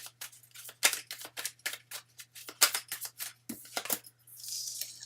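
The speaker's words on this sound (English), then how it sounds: "so we're going to go ahead and shuffle the cards for Andrea." Tarot cards are being shuffled by hand, a close, quiet series of quick papery riffles and slaps in an irregular rhythm with short pauses between bursts.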